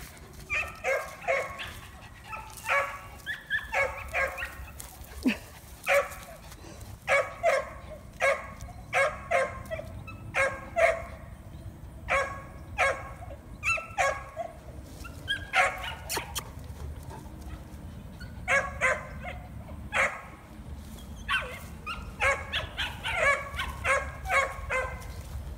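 A female adopted dog gives short, excited barks, yips and whimpers in irregular bursts that carry on steadily at close range, with some low background noise.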